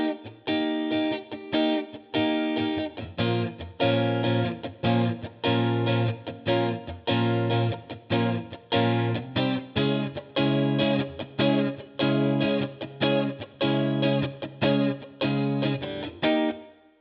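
Distorted electric guitar chugs out steady, heavy chords in a driving rhythm, playing the bridge of a song, loud and continuous before cutting off at the end.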